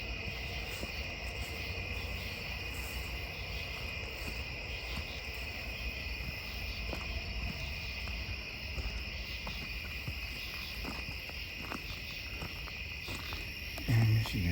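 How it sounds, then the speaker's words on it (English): Bugs chirp in a dense, steady chorus on a humid August summer night at an Indian mound, a continuous high insect drone with no breaks, moderately loud and all around. "so we will have a lot of bugs."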